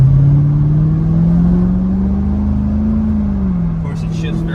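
The LS3 V8 in a 2008 Chevrolet Corvette holds a loud, steady engine drone that rises gently in pitch and then eases back, close and continuous for several seconds, with a faint clatter near the end.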